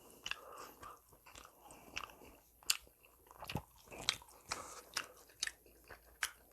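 Close, crisp bites and wet chewing of beef Chapaguri noodles, a steady rhythm of sharp crunchy clicks and slurps recurring every half second or so, with no talking.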